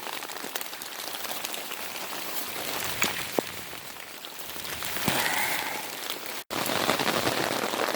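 Steady rain patters and drums on a nearby surface, a dense continuous hiss of drops with occasional sharper taps.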